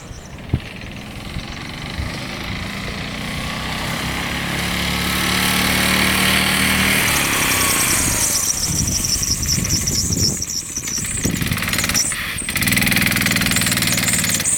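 A small minibike engine runs close by for the whole stretch, a buzzing, high-pitched drone that rises as it revs up and holds steady, with brief dips and surges near the end.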